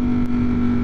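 Steady engine drone from the exhaust of a 200+ hp motorcycle, a constant low hum with a strong tonal band, continuous and fairly loud throughout the short stretch.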